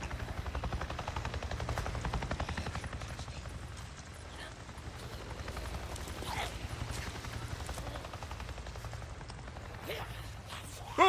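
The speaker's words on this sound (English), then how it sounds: "A Nero chopper! It just buzzed right over me." A Nero chopper in the video game Days Gone passes low overhead, its steady rotor thump and engine roar filling the scene loudly and continuously before easing slightly.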